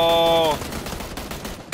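Enemy gunfire in a shooter video game: a short tonal whine gives way to a rapid rattle of crackling shots, ending in one sharper report, loud and close.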